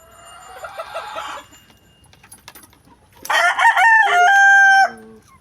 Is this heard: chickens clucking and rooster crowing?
yes